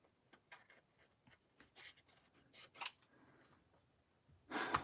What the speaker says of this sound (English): so I'm using my scissors, and we are good to go